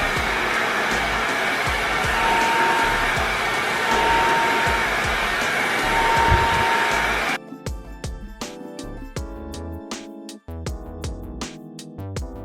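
A handheld hair dryer on its cold setting blows on 4C natural hair, a loud, steady close whoosh for about seven seconds before it cuts off and gives way to a quieter, tonal background.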